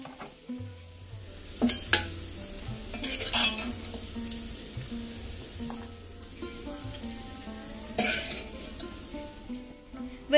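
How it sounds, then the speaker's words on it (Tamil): Spices and onion sizzle steadily in ghee and oil for mutton biryani while a metal spoon stirs, scraping and clinking against the pan now and then, close up and without speech. "அதில் பிரியாணிக்கு தேவையான ஸ்பைசஸ், வெங்காயம் இதெல்லாமே வந்து தாளிக்கிறேன்."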